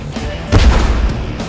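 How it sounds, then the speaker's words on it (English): Artillery fire in a team battle video game: one heavy blast lands mid-clip, booming loud and low over a steady rumbling background. "Start fire."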